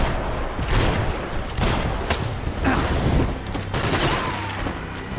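Dense, continuous gunfire from a firefight in Max Payne 3, with rapid overlapping shots and bursts sustained loudly throughout, no voices.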